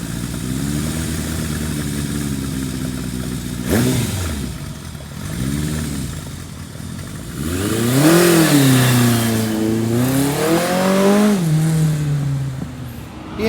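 A hot rod Kawasaki KZ1000 motorcycle engine, warmed up, runs close by with a rough idle and several rising and falling revs, the last ones longer and stronger.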